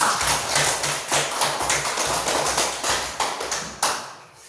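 A class of students clapping their hands together in a school classroom, a dense, fairly loud burst of many overlapping claps that fades out at the end.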